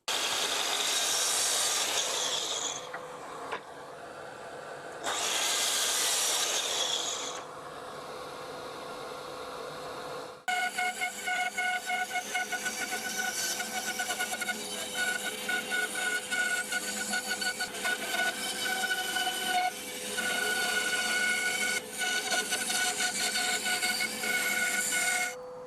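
Thin wooden strips for furniture handles are sawn in two loud rasping bursts, then a long stretch of steady buzzing machine noise with faint rhythmic ticking follows.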